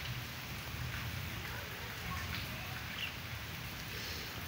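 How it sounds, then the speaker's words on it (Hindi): Steady rain pours down outdoors near a duck sitting on its eggs, a dense even hiss that fills the whole stretch without pause, with no one speaking. "बारिश तेज़ हो गई अब"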